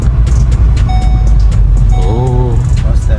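A seatbelt warning chime sounds inside a Volkswagen Golf 7.5 TCR, a repeated high tone over the deep rumble of the idling car, with people talking nearby.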